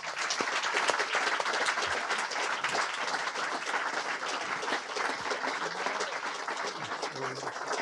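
A crowd applauds steadily for Arch and Doreen at an evening event, with dense, even clapping lasting throughout and a few voices faintly underneath.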